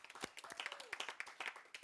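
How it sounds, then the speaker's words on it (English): Audience applause at a live televised charity segment, dense clapping with some voices mixed in, steady and moderately loud for a couple of seconds. "A round of applause for Awana and Caitlin, everybody."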